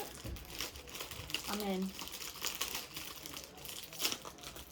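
Plastic packaging is torn open with close crinkling and crumpling bursts, mixed with a brief spoken remark.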